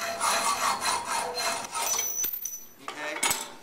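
A blade saws through a piece of metal in shop class while a compass is being built, with rhythmic rasping back-and-forth strokes that fade toward the end, followed by a couple of sharp knocks.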